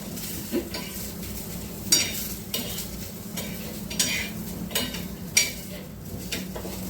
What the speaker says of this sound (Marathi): त्याला आता तेल टाकून भाजायचं.